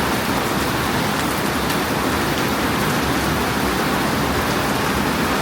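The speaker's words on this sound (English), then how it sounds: "it looks like the rest of the day is going to be rainy" Steady rain falling onto a front patio in Tuktuk Siadong, a dense, even hiss of drops close by, continuous and unbroken with no voices.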